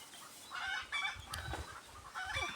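A hen clucks in short repeated calls, fairly close and clear, during training of a female fighting chicken.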